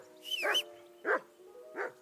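A dog barks in the medieval game Kingdom Come: Deliverance II, three separate barks spaced unevenly over two seconds, moderately close but fairly quiet.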